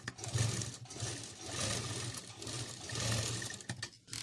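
Steady, close whirring from a sewing machine stitching the shoulder seam of a kurti, running continuously with slight swells in speed.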